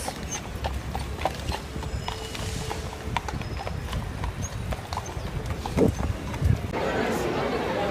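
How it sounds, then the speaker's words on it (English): Horse hooves clip-clop in a quick irregular rhythm on hard New York City pavement, with street bustle and faint voices nearby, and a burst of louder noise at the end. "I wanted to get a video of these horses."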